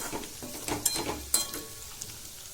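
Potatoes for dum aloo frying in a pan while being turned and stirred, a soft continuous sizzle broken by several sharp scraping clinks of the spatula, close and fairly quiet.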